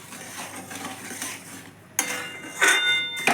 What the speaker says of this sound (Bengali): ধারে ধারে সব সর হয়ে যাচ্ছে, সমানে নাড়তে হবে এটাকে।